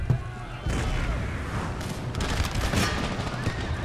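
Musket and artillery volleys in Empire: Total War, a battle between United States forces and peasantry, rolling as dense continuous gunfire with booming bursts, a heavy crash near the start and repeated sharp cracks throughout.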